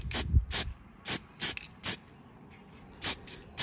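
Short bursts of spray primer hissing onto 6mm-scale miniature buildings, about seven separate sprays in an uneven rhythm with quiet gaps between them.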